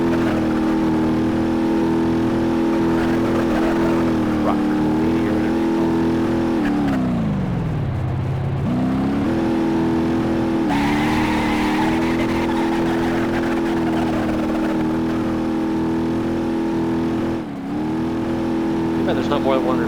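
A car engine in the BeamNG.drive driving simulator, set to automatic but shifted by hand, holds a steady loud drone that drops sharply in pitch during a shift, then climbs and settles again, continuous throughout.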